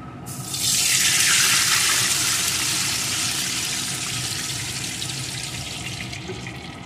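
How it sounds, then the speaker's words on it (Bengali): Water poured into a pan of dry red chilli and spices frying for a Bengali hilsa mustard curry, a loud continuous rushing splash that starts abruptly and then settles into a steady flow with no talk. "এগুলো লাল লাল হলে এর ভিতরে দিয়ে দেব পরিমাণ মতো জল।"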